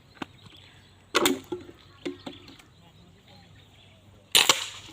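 A handmade wooden fishing crossbow speargun, built from padauk and rosewood, is fired several times in quick succession outdoors. Two loud, sharp snapping releases stand out among a few smaller clacks, with the shots heard mostly on their own.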